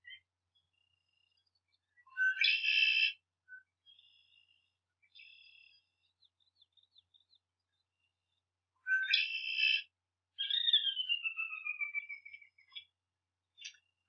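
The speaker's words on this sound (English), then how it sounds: "I don't know what that bird was." An unidentified wild bird calls near a marsh in a quiet setting. Two bursts of harsh, buzzy notes are separated by softer, sparse chirps, followed by a descending whistled trill.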